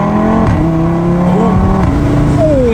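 An Audi RS3 with its exhaust valves open downshifts from third gear, its engine revving loudly with rising and falling pitch through the gear changes, heard close from inside the car.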